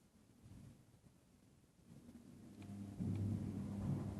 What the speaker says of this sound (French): On entend bien les orages, hein.